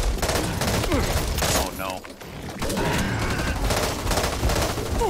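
Rapid automatic gunfire bursts in the video game Back 4 Blood, dense and loud throughout with a short lull, while players shout over the shooting.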